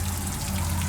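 Water drains from RV valves onto the ground, a steady broadband splashing and trickling heard up close that continues without a break for under a second.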